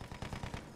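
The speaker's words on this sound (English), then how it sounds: "There's an enemy machine gun." Enemy machine gun fire in the Battlefield 1 video game, a short burst of several rapid rhythmic shots at moderate level within a busy combat mix.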